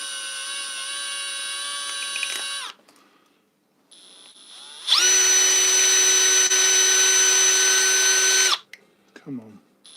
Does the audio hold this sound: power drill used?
yes